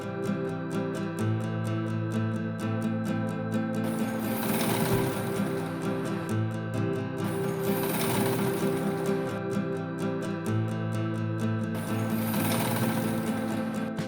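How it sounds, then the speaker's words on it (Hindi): A sewing machine stitches a cloth face mask in three running bursts separated by short pauses, a fast, even mechanical chatter heard up close with no talk. "दोनों तरफ सिलाई से जोड़ दें।"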